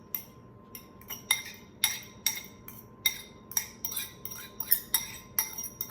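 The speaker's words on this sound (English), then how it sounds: "I'm gonna just stir this up a little bit." A utensil stirs an egg and hash brown casserole mixture in a dish, giving a steady run of close, sharp clinks and scrapes against the bowl at an uneven rhythm with no talking.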